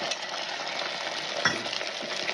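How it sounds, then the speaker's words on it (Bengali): Beaten egg sizzling in hot oil for a Kolkata street-style egg roll, a steady close hiss with a brief louder crackle midway and no talking. "তেল গরম হয়ে গেছে, এর মধ্যে ডিম ফাটানোটা দিয়ে দেবো"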